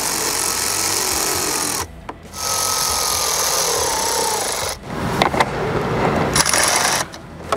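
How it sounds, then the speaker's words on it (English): Hose clamps being tightened on a Whipple Competition open air box kit on a 2024 Ford Mustang, two on the filters and one on the throttle body: steady close ratcheting tool whir with two brief pauses, turning uneven and clattery near the end. "Now, we got to tighten up the 3 clamps. 2 on the filters, 1 on the throttle body."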